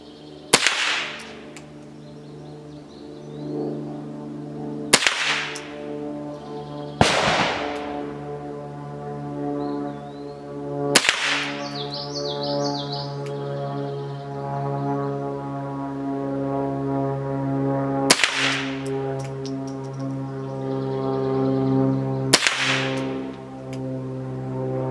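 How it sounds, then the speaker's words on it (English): A Ruger 10/22 rifle fires about six sharp, loud shots at a target, spaced a few seconds apart, over a steady low drone in the background. "So we're going to go with another batch of ammo, fire at this next square"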